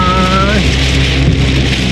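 Very heavy rain pours during a storm in Bangkok, a loud dense roar that runs unbroken throughout, with a tonal whine fading early and faint voices beneath.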